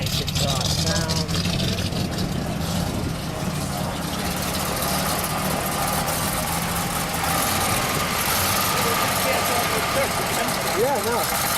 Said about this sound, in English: Nice exhaust sound.